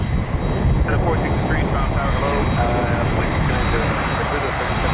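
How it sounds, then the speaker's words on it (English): Jet engines of a Boeing 767 cargo plane at Toronto Pearson airport roar steadily and loudly for several seconds, with a voice talking over the constant rumble. "767 cargo plane. Air Canada 7212 headed to Madrid."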